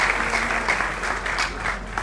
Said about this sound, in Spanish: Denme un aplauso a él también.